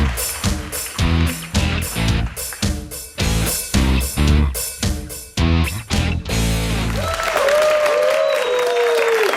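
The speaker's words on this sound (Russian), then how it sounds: "Поэтому эти аплодисменты вам." At a New Year's stage show, rhythmic music with a heavy beat plays loudly at first. It then gives way to a sustained roar of audience applause with faint tonal sounds still ringing underneath.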